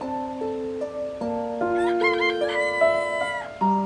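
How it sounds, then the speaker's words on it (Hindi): A rooster crows nearby, loud and clear, in a long drawn-out call with rising and falling tones. "मुर्गे की आवाज"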